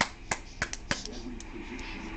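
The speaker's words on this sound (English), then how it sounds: "we'll get him clapping" A nine-month-old baby boy claps his hands a few times, the soft, sharp pats coming close and irregular at first and then fading under quiet background noise and faint voices.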